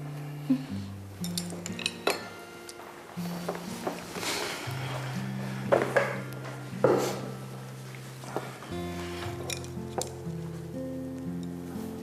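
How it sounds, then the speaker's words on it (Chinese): Bowls and chopsticks are fetched and set down, making light clinks and knocks of ceramic and wood scattered over a sustained soft musical backing, with a few footsteps and no clear talking. "我再过去拿碗筷"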